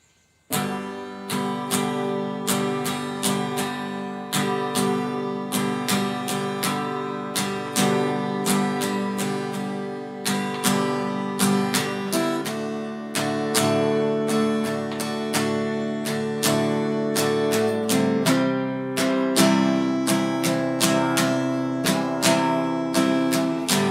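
Guitar strummed in a steady rhythmic pattern of down and up strokes, chords ringing continuously and changing partway through, close and clear.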